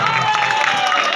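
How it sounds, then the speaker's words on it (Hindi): Audience clapping at a devotional musical gathering, a steady wash of applause and crowd noise mixed with sustained musical tones, fairly loud and continuous throughout. "एक बार ताली हमारे बजाना वालों को दे"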